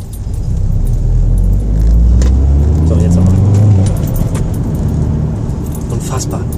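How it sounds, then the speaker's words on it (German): A car passes close by on a road, its engine rising and fading with a low rumble under steady nearby talking. "Es kommt natürlich ein Auto, war klar."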